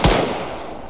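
A single sharp gunshot cracks loudly at the start, followed by a fading reverberant tail, weapon fire in the Arma 3 Antistasi game mode.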